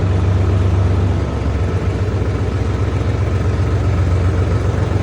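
A 50-horsepower Solis 50 RX tractor runs after starting, its engine holding a steady, loud low rumble close by with a constant drone throughout and no talk over it.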